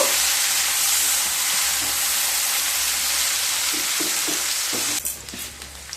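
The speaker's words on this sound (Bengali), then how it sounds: "পেঁয়াজগুলোকে খুব ভালোভাবে ভেজে নেব।" Sliced onions frying in hot oil with green chillies give a dense, loud, continuous sizzle, with a few stirring knocks and scrapes near the end, all close-up and without speech.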